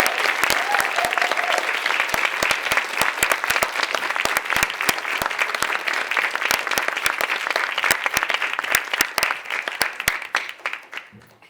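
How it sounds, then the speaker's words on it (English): An audience applauds at a community service awards ceremony, dense, steady clapping from many hands that holds for about ten seconds before tapering off at the end. "You did offer me some applause, but I hope it'll be far more enthusiastic for this very distinguished and committed scholar, Zoe Corbin."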